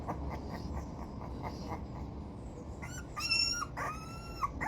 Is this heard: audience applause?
no